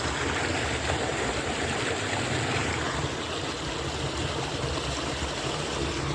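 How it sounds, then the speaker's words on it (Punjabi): Irrigation water gushes steadily onto a vegetable field through a makeshift setup, a continuous broad rushing flow heard close and alone. "ਇਹ ਜੁਗਾੜਮੈਂਟ ਕਰਕੇ ਸਬਜ਼ੀ ਨੂੰ ਪਾਣੀ ਲਾ ਰਹੇ ਆ"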